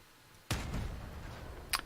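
In the Crossout vehicle combat game, a fuel barrel explodes in a sudden loud blast that rumbles and decays, followed by a sharper second burst.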